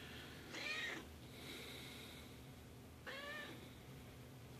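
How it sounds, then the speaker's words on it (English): A cat in an empty room meows twice, the first call drawn out and the second shorter, fairly soft against a low steady room hum. "There's nothing in this room except for a cat."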